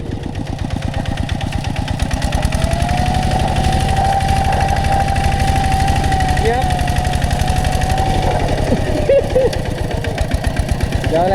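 A walking tractor engine runs close by in a rice field, a loud steady single-cylinder chug with a rapid knocking pulse throughout, with people talking over it.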